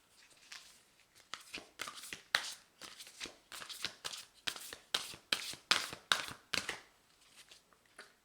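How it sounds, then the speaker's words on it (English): Tarot cards are shuffled by hand, producing a rapid series of crisp, close riffling bursts in a steady rhythm for several seconds before tapering off. "I will shuffle one more time, and then I will draw a card from the top."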